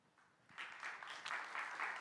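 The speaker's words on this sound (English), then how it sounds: "A round of applause" An audience applauds at a conference talk on the industrial metaverse, the clapping swelling after a quiet start and continuing as a steady, moderately distant ovation.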